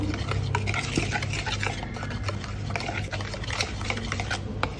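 Batter being gently stirred by hand in a bowl for baked doughnuts just after oil is added, giving a steady, close scraping and swishing that goes on throughout with no talking.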